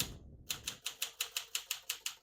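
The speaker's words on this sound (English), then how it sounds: "all the keys type nice and none of them skip or stick" 1955 Smith-Corona Silent-Super portable manual typewriter keys striking in a steady rhythm, about ten crisp clacks at an even pace, close and clear with no voices.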